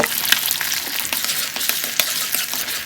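Hot oil crackles and sizzles steadily as an egg fries in a pan, a bright, busy spitting sound with small pops and scrapes, close and continuous.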